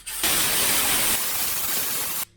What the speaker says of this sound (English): I'm gonna use brake cleaner now first.